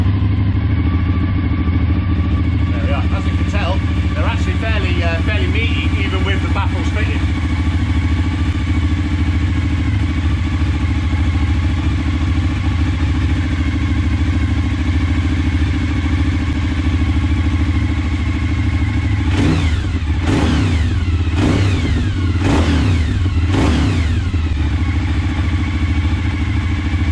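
A Suzuki SV1000 V-twin motorcycle with baffles fitted idles with a steady, deep thrum, close by, with short clattery blips of revving early on and a quick series of revs near the end.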